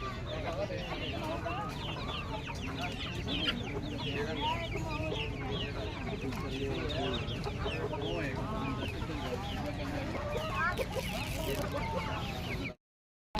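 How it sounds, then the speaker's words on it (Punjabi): Dense clucking from many chickens fills a busy outdoor livestock market, steady and continuous, with occasional crowing-like calls and faint voices mixed in. "ਮੁਰਗੀਆਂ ਵੀ ਸਰਵੇ ਮੁਰਗੇ ਮੁਰਗੀਆਂ"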